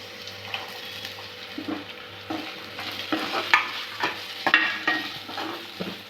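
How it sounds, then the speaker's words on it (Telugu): Green peas fry with ginger paste in a pan, a low steady sizzle broken by frequent close scraping and clinking stirs that grow busier toward the end, with no voices. "ఇందులోనే ఫస్ట్ బఠానీ అయితే వేసుకొని వేయించుకోవాలి"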